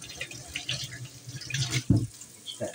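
Tap water runs into a kitchen sink while chicken is washed under it, a close splashing gush with brief louder sloshes and drips, and a faint voice underneath.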